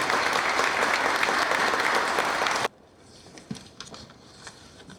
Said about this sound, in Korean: 뜨거운 격려의 박수를 부탁 올리겠습니다